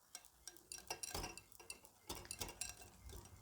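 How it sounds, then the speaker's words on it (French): A spoon stirs an eggless, no-bake lemon cream mixture in a bowl, soft scraping swirls with light clinks, close and quiet, with no talk. "On mélange bien."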